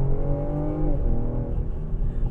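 A 2020 Ford Explorer ST's engine, partly synthesized through the cabin speakers, gives a steady throaty drone that rises in pitch and then settles, heard from inside the cabin with no talk.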